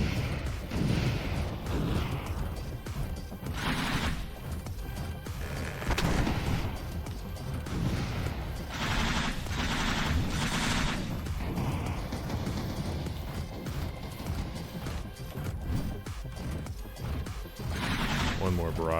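Heavy weapon barrage during the Granvir final boss fight in a mech video game: dense, continuous blasts and crashing impacts with several sharp louder bursts, loud throughout, with a voice at times underneath.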